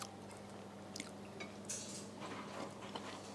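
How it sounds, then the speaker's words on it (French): Quiet chewing of a slightly crunchy spring turnip from a spiced beef cheek daube, soft bites and mouth sounds close by with a faint clink of cutlery, no talk. "goûtons un petit navet, tiens, tu vois"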